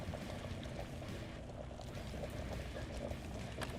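Steady pouring water filling a water bottle in the survival game Vein, a continuous even rush and splash from start to finish with no voices.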